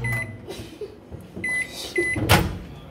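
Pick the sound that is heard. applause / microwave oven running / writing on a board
microwave oven running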